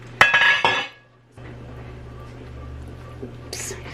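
A pot lid lands on a pot of chicken soup with a sharp metallic clank and brief ringing, then a quieter simmer-like hiss continues with faint kitchen clinks.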